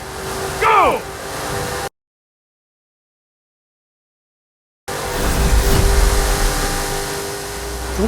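Race car engine in a racing video game, revving in two bursts separated by a gap of silence, with rising gear-change sweeps in the first burst and a louder sustained acceleration in the second.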